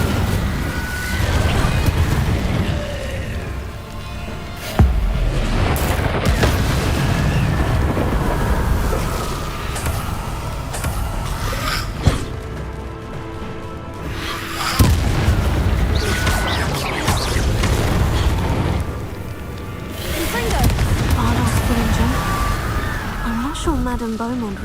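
Spell blasts of Confringo and Incendio in Hogwarts Legacy, loud booming bursts repeated every few seconds over a dense rumbling game soundscape, with a voice casting between them.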